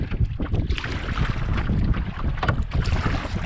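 Strong wind gusts across an open lake, buffeting the microphone with loud, rough, continuous roaring and rumbling, close-up and steady, with no voices.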